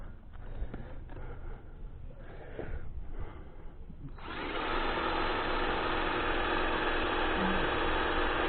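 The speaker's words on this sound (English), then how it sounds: "Drill through it." A power drill bores into concrete to fix a shade sail bracket, its steady loud grinding whine starting partway through and running continuously after a stretch of quieter handling noise.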